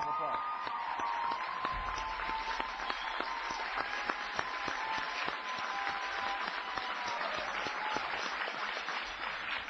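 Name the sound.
applause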